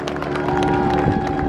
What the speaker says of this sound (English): Clap your hands and I'll do it.